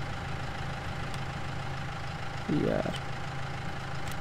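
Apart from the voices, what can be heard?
Ford 3600 tractor engine idling in Farming Simulator 19 video game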